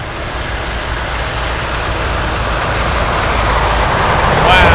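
A trijet freighter aircraft, a converted FedEx cargo plane at Anchorage airport, roars past in a broad, steady wash of engine noise that swells slightly toward the end, with a voice talking over it.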